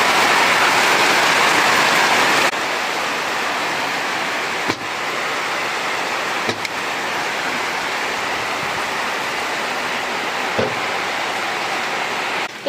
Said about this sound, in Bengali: বৃষ্টিটা বেশ জোরেই নেমেছে।